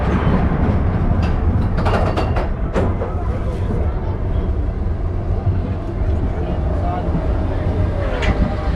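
Expedition Everest roller coaster train at Disney's Animal Kingdom rumbles along its track in a loud, continuous mechanical roar with rattles and a few sharp clatters, riders' voices faintly mixed in.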